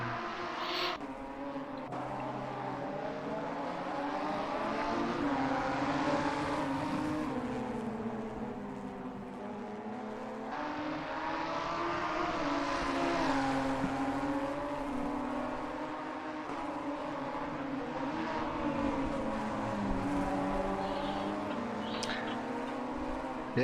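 Race car engine in the Assetto Corsa driving game, a steady droning whine with shifting pitch that rises and falls continuously, loud and close, with no talking over it.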